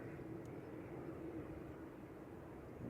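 A Beechcraft King Air passes at Manchester Airport, heard as a steady, broad engine roar that holds constant and moderately distant for about three seconds, with no talk.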